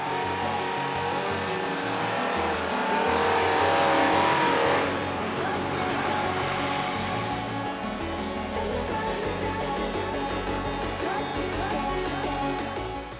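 A Volkswagen Tiguan climbs a steep, snowy hill on an off-road forest track, its engine droning loudly and steadily under strain for the whole stretch, with no break in the sound.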